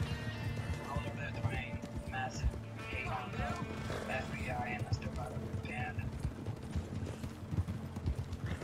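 Horse hooves clip-clopping in a galloping rhythm in the video game Red Dead Online, heard under ongoing casual talk from players, with an occasional whinny.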